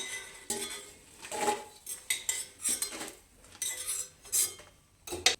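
Fried dried red chillies scooped from a pan onto a plate, a series of close metallic scrapes and clinks of a spoon against cookware in irregular bursts, with a faint sizzle beneath and no voices.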